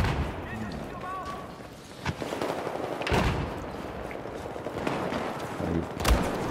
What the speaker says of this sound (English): I got shot in the back with a shotgun